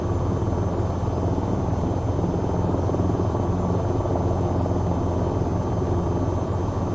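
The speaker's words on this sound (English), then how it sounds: "there's a helicopter trying to land on the back" An AH-6 Little Bird helicopter in the flight game VTOL VR gives a loud, continuous rotor and turbine drone that holds steady throughout, with no voices.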